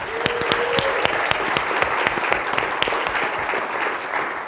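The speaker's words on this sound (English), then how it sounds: "Can we give them another round of applause?" An audience at a healthcare startup demo day applauds the founders, giving dense, steady clapping that carries on evenly for several seconds with no voices over it.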